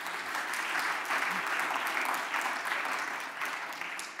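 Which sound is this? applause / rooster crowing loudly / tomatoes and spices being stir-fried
applause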